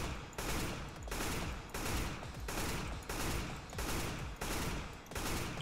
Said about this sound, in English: The best way to shoot, in my opinion, is to burst, which is, in terms of the AK, I advise doing 2 bullets.